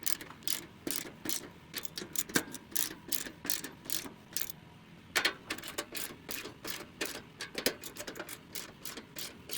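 A hand ratchet tightens down bolts on a DIY 8700 assembly, giving close, crisp bursts of rapid clicking strokes with brief pauses between them and no voices.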